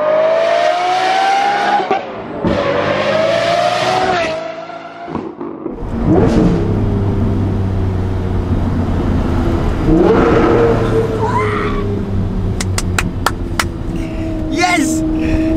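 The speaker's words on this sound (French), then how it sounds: "C'est un échappement Fab Speed si tu te demandais" A car fitted with a Fab Speed exhaust revs and accelerates hard, its loud engine note rising and falling in sweeping pulls, echoing as if in a tunnel, with a voice talking over it.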